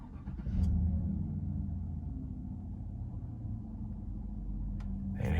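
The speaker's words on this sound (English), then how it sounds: "Gonna start it up so y'all can hear the engine." A 2020 GMC Yukon SLT with a 5.3L engine turns over and settles into a steady low rumbling idle, close by, with a short burst of noise near the end.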